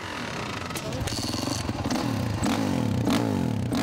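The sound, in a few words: four-stroke motocross motorcycle engine, deep low pitch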